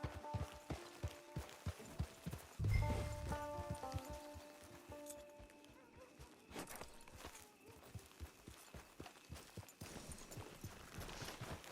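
Horse hooves clip-clopping in Red Dead Redemption 2, steady walking hoofbeats in a regular rhythm, moderately near and fairly quiet, with rain-like patter and ambient game sounds behind.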